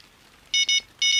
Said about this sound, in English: Oh, we got a beep. There goes that match rod.